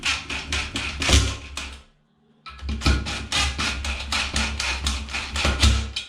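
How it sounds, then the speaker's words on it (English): Impact driver pinching up the top-fixing bolts of a toilet seat: rapid rattling hammering bursts, loud and close, broken by a brief silent pause before the rattling resumes. "You can pinch that up a bit more with our impact driver."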